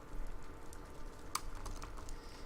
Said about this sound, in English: Let's just go ahead and type efficiency, if I can spell.